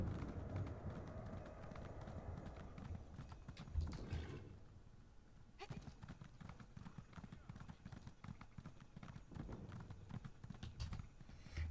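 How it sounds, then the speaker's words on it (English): Holiday-decorated horse with jingle bells and a wreath trotting in Elder Scrolls Online, steady clip-clop of hooves running throughout over game ambience, with a brief quieter gap midway. "I'm riding the holiday horse. It's got the little jingle bells and wreath on it."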